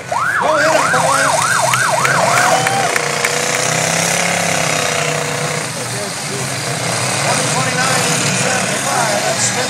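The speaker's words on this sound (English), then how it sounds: "hit the siren, Jake" A wailing emergency-style siren rises and falls several times at a county fair truck demolition derby, loud over crowd noise and engines, then gives way to ongoing rumble, with voices talking throughout.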